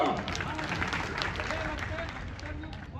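Audience clapping at a village gathering: a continuous patter of many hands applauding together, moderately loud and steady, mixed with voices talking over it.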